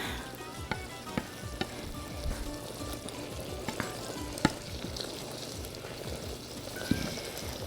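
Tomato sauce being stirred and cooked in a pan for Greek pastitsio, a steady close sizzle of frying with scraping stirs and spoon knocks throughout, no talking.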